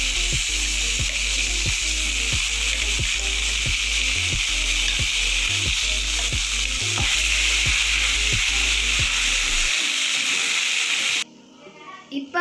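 Ground mint chutney sizzles loudly in a hot pan, a dense hiss with regular stirring scrapes and taps, the frying cutting off near the end and leaving faint handling noise.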